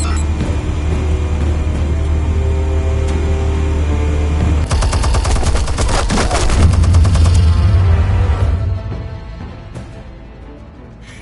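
Sustained heavy gunfire and rapid automatic bursts from Batman: The Telltale Series, loud and dense over a low rumbling engine-like drone, swelling in the middle then tapering off, with no speech.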